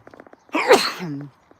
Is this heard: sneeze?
yes